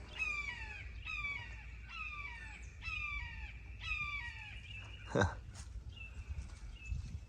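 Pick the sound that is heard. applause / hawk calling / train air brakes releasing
hawk calling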